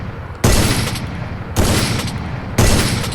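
Three loud sniper rifle shots from the video game Free Fire, evenly spaced about a second apart, each a sharp crack followed by a lingering blast tail.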